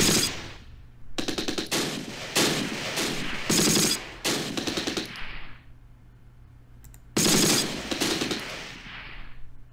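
Bursts of machine-gun fire in the Close Combat: Last Stand Arnhem war game, loud rapid volleys in several clusters separated by short pauses, with echoing tails trailing off after each burst.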